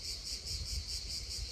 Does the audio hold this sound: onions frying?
no